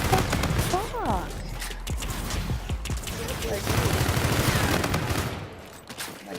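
Video game gunfight with rapid bursts of gunfire, layered under a player's voice talking over the shooting.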